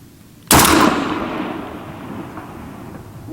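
A K1A submachine gun fires a single sharp, loud shot at a 600 m target on an outdoor range, followed by a long echoing decay that fades slowly into quiet.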